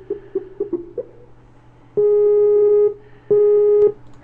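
A Skype call to the Echo sound test service: a few short electronic beeps, then two long steady ringback tones with a pause between them, loud and clear with no talking.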